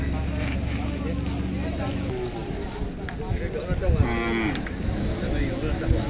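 Cattle and bullocks moo loudly amid a noisy cattle market in Belhe, with hooves clopping and people talking in the background.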